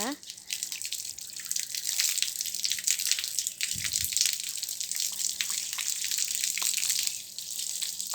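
Water running from a tap or hose rinses the roots of a desert rose plant being moved to a bigger pot, a steady splashing, trickling stream that fills the whole span at close range with no talk over it.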